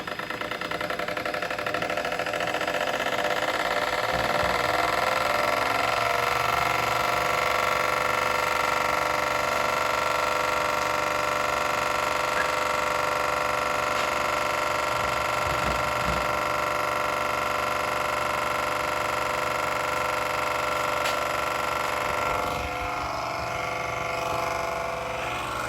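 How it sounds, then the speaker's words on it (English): Compressor running with its fan striking something, a loud continuous mechanical drone with a rough, rattling undertone and occasional knocks, steady throughout. "the compressor sounds like it's kicking up, but it sounds like the fan is hitting something"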